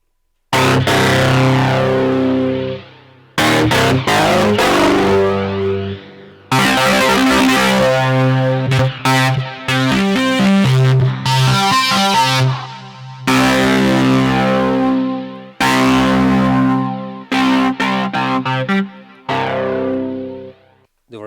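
Heavily distorted electric guitar through a Roland SP-808 distortion effect plays loud chords and riffs in bursts separated by brief pauses, thick and saturated throughout.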